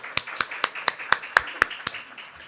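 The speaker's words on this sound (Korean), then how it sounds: "감사 박수 한번 드릴까요?" A church congregation at a Sunday worship service claps in thanks, sounding as about ten sharp, evenly spaced claps that are crisp and close, like a few hands rather than a full crowd.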